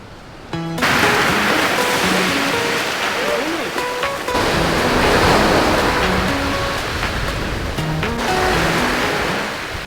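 Ocean waves washing onto a beach at Uluwatu, Bali, a steady loud broadband surf roar that continues throughout, with music or tonal sounds layered over it.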